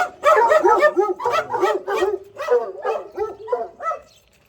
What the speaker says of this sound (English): The hunting dogs. They're hunting for peregrinos.